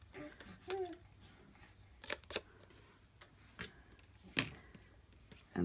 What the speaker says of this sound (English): So all I'm going to do here is just snip the ends off.